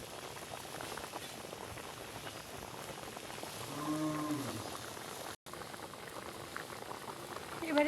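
Milk and sweet potato simmering for payesh in a village kitchen, a faint, steady bubbling hiss throughout, with a brief low tonal murmur near the middle and a short dropout.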